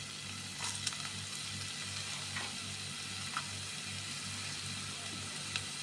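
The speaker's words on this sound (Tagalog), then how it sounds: "Bigisa na natin yung ampalaya." Bitter gourd (ampalaya) sautéing in a pan with onion and garlic, giving a steady low sizzle with faint stirring scrapes throughout, no voices.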